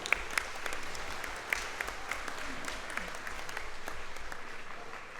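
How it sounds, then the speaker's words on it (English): A dinner audience at the Glengarry Sports Hall of Fame induction claps for the organizers, a moderately loud, even applause with a few sharp nearby claps standing out, and faint voices underneath. "Let's have a round of applause for Debbie and Alana."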